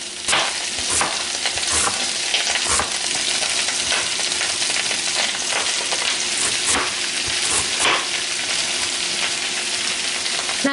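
Cabbage quarters fry and sizzle in an overfull pan on the stove, a steady dense crackle with occasional stirring scrapes throughout, close and fairly loud, no talking.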